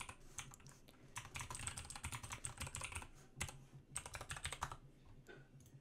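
Keys clatter in quick, uneven bursts of typing on a computer keyboard, close up, with short pauses between runs of keystrokes as login details are entered.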